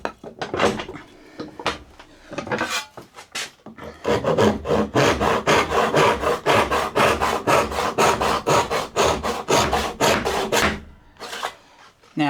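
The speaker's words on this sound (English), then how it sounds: "If I was to go and saw this piece of jarrah" A hand saw cuts through a piece of jarrah hardwood, producing a fast, steady rhythm of rasping strokes that starts with a few hesitant pulls and then runs evenly and loudly up close.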